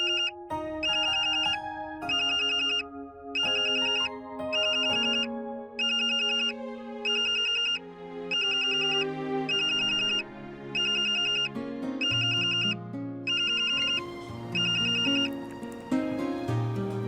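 A phone ringtone of an outgoing call plays loud and alone, a repeating bright melodic pattern in regular bursts with short gaps between them, continuing for many cycles.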